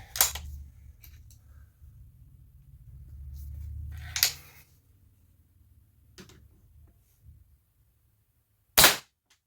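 A Crosman Nitro .177 air rifle fires a single sharp, loud crack near the end, standing out against a quiet background of faint handling noises and a low hum.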